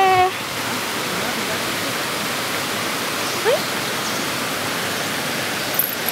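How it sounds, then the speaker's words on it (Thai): A steady, rushing roar of falling water from Kaeng Yui waterfall in Vang Vieng, Laos, fills the whole stretch, close and unbroken, with a few bird chirps at the very start. "ได้ยินเสียงน้ำตกแล้ว"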